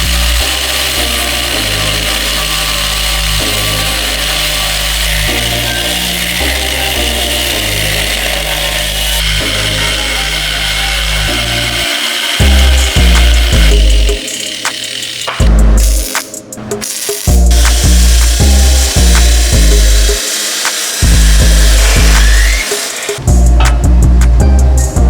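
A loud power tool cuts steel for a custom rear bumper and hitch on a Toyota pickup. It whines steadily, then breaks into bursts with short pauses between cuts, and no voices are heard.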